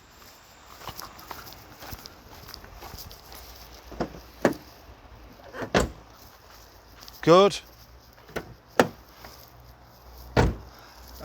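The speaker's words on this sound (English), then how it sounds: "I think the sign of a well looked after car is with its door shut sounds." Car doors on an MG ZS-120 are shut one after another, a series of close, solid thuds spaced a second or two apart, with a brief voice between them.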